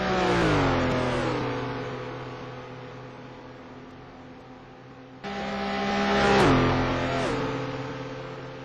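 Race cars including a BMW lapping at Rouen during an STC Black Cup round, engine notes rising and falling through gear changes, with one car surging louder and sweeping past midway.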